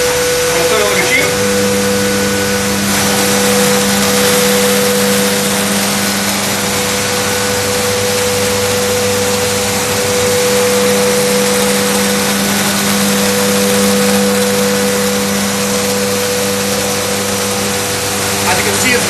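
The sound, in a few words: chocolate-making machinery running loudly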